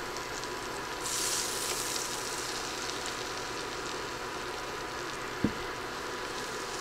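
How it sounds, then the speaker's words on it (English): Three tablespoons of butter melt in a pan with a steady, soft hiss that goes on throughout, and one small knock comes near the end. "Now I've got 3 tablespoons of butter. We're going to go ahead and melt that."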